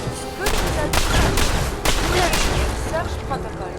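Rapid bursts of a video game gun firing pellets that each burst in small explosions, a quick series of sharp cracks and booms repeating roughly every half second, loud and close, with a voice talking over them.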